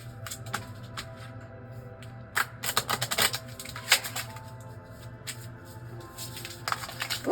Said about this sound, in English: So let's just shuffle these cards here.